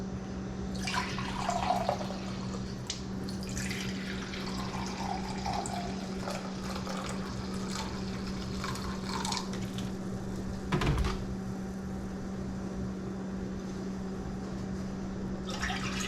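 Vinegar is poured from a container into a small pot for pickling brine, a soft trickling and splashing liquid sound over a faint steady hum, with one louder splash partway through.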